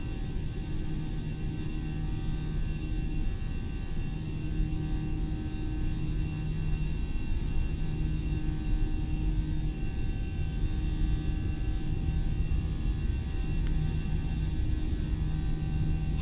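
An airliner's jet engines drone at takeoff power during the roll down the runway in the Microsoft Flight Simulator game, a steady, even roar with a low rumble that holds unchanged throughout.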